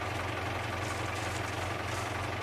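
A tractor engine idles steadily at close range with a low, even, throbbing rumble and no change in pace.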